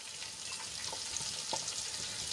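Finely chopped onions go into oil with a fried paste, giving a steady hiss and crackle of sautéing with faint scraping from stirring, close by and moderately loud.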